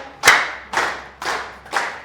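Clapping at a business training session: four loud, crisp claps in an even, deliberate rhythm, close by and with no talk over them.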